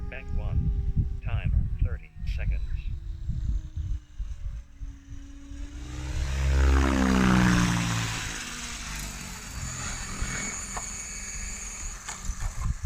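An RC helicopter's rotor whines up into overspeed during autorotation practice, a pitched tone sweeping up and back down over several seconds, with someone talking before and around it.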